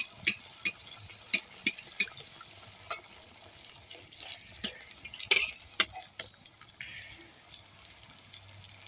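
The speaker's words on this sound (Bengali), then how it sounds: "আমি একসাথে তিনটে ভেজে আপনাদেরকে দেখাচ্ছি" Three stuffed potato puris deep-frying together in hot oil over a high flame, a faint bubbling hiss with a scattered run of sharp crackling pops, no voices.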